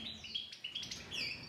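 Breeding goldfinches chirp and twitter close by in quick, high bursts, with sharp tweets, short trills and a rising call near the end.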